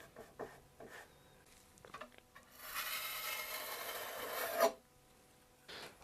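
A putty knife works wood filler into a crack in a desk, giving a soft scraping rasp that builds into a longer, steadier stroke and stops sharply. Short quiet scrapes and taps come before and after.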